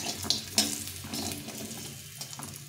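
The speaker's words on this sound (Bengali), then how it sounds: "এখন আমি বড়িগুলো ভেজে নেব।" Bori lentil dumplings frying in white oil, a close, hissing sizzle with a few sharp pops near the start, fading gently.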